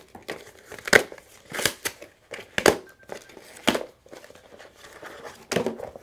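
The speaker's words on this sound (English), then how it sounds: "I'm gonna tear this open up." Packaging for a Hydro Pack SF750 750 ml soft flask is torn open and crumpled, with sharp, close crinkling bursts and rips in an irregular rhythm separated by brief pauses.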